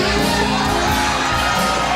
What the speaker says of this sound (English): The crowd started cheering instantly